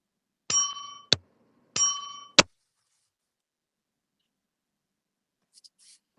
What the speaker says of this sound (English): My bell wasn't working earlier.